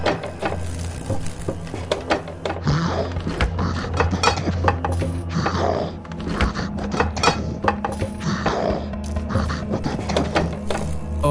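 A refrigerator groans with dense mechanical rattling, clicking and grinding, steady and loud for about eleven seconds as a horror story sound effect in a flickering kitchen.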